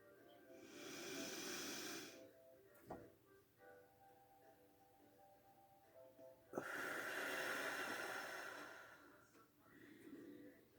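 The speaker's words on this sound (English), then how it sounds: "Trying to push out as much energy, or I should say air, out of the stomach as possible when you're exhaling." Long, forceful breaths rush out from the stomach in two drawn-out hissing exhales a few seconds apart, close and breathy, with faint softer breathing between them.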